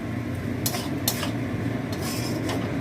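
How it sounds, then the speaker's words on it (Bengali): A spoon scrapes and clinks against a pot of pumpkin mung dal, a few sharp metallic knocks over a low steady hiss, then the lid goes on. "এই নেড়ে নিয়ে এবার ঢাকা দেবো।"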